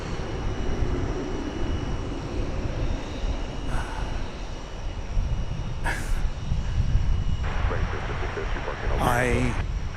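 A Frontier airliner bound for Denver taxis across the airfield at DFW Airport, its engine a steady distant roar, with brief higher whooshes and a rising whine near the end and a voice talking over it.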